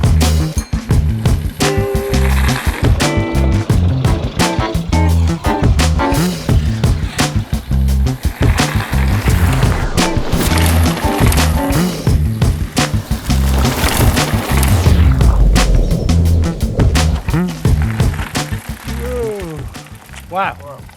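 Hardtail mountain bikes with 27.5 and 29 inch wheels ride down a dirt trail, tyres rumbling and rattling loudly and continuously, with wind noise and riders calling out throughout.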